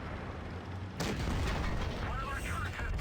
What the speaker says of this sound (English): There's a HE shot.